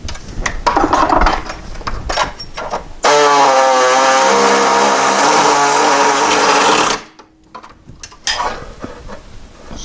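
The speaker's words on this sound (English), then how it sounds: "going to take a grinder and cut through both pieces so I can get it butted up" An angle grinder cuts through rusty front-end steel body panels on a Porsche 912 during repair, a loud sustained whine lasting about four seconds amid shop clatter before and after.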